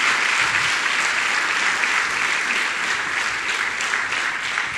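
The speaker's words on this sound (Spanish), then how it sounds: "Le damos un aplauso a la iglesia que está en la radio" A church congregation claps steadily during a worship service, producing a continuous wash of applause with no break.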